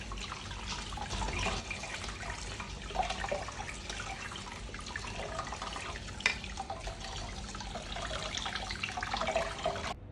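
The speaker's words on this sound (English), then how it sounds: "So you rinse it with water, with cold water, so that it will stop the cooking process." Cold tap water splashes steadily into a sink for several seconds, rinsing cooked tapioca, with occasional clinks beneath the continuous flow.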